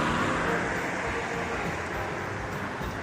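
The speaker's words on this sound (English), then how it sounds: "so I'm going to have to wait for these cars to go through." Steady, loud roar of road traffic as cars rush past nearby, a continuous broadband wash of engine and tire noise.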